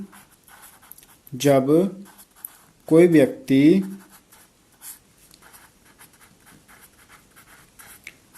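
Hand-writing a definition for a maths class, soft scratchy strokes of pen on paper running through the clip, with a voice speaking briefly in the middle.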